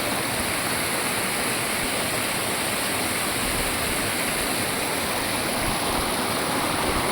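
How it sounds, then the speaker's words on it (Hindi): A mountain waterfall near a glacier roars in a constant, dense rush of water, loud and unbroken throughout with no voices. "देखिए कितना सुंदर झरना बहते आ रहा है।"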